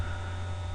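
A computer processor fan gives a steady low hum with faint static, picked up by a sensitive microphone, constant and unbroken with nothing else heard.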